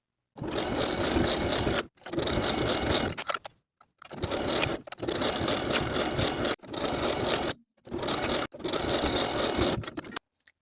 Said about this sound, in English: Sew that neckline all the way around with a 3/8 inch seam allowance.